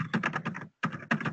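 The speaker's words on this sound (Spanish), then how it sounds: "Me parece que se te oye mucho, Alessandra, el teclado" Computer keyboard typing during an online coaching session, close and clear: two quick bursts of rapid key clicks separated by a brief pause, with no talking.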